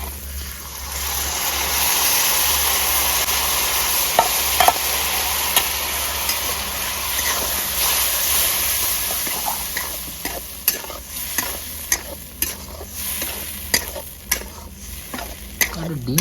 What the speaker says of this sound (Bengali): এবার এখানে আমি ডালটা দিয়ে দেবো